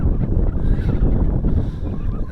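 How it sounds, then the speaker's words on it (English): Strong wind buffeting the microphone on an open hilltop at Knowth, a loud, steady low rumble with gusty swells throughout. "maybe you can't hear any of this over the wind"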